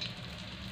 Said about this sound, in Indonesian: digorengnya itu dengan api yang kecil, dengan api lilin